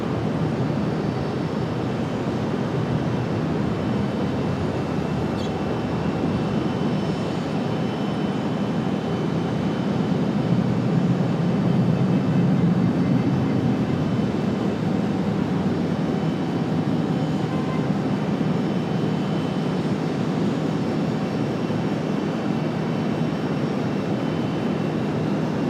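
Steady broadband engine roar at Raleigh-Durham airport from an ATR turboprop airliner, loud and continuous throughout with no breaks and no talk.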